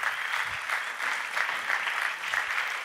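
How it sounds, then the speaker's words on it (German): An audience at a church stage event applauds to welcome a guest, producing steady, even clapping throughout with no pauses. "Lass uns sie mit einem Applaus willkommen heißen."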